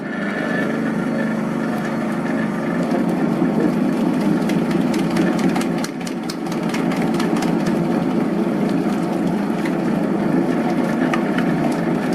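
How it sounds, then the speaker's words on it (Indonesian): A dough mixing machine kneads donut dough, giving a loud, continuous motor hum and mechanical rumble with a faint rhythmic clatter that runs steadily throughout, with one brief dip partway through. "Oke, nyalakan mesin ya."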